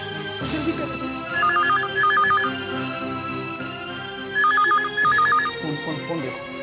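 A telephone rings in two paired bursts of rapid electronic trills, a few seconds apart, over voices and background music.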